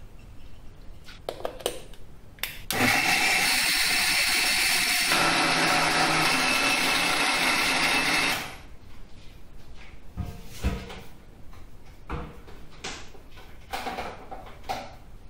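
A kitchen grinder grinding soaked rice for idli batter, a loud steady motor whir starting abruptly and running several seconds before cutting off, surrounded by clinks and handling noises in a home.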